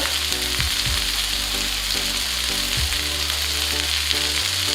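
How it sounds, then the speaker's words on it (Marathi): Okra (bhindi) sizzles steadily in a pan as it fries, a continuous crackling hiss that stays close and even throughout with no talking. "आपल्या भेंडीची भाजी तयार होती आहे ती छान शिजली आहे"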